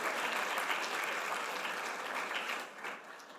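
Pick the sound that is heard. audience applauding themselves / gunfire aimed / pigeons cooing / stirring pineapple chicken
audience applauding themselves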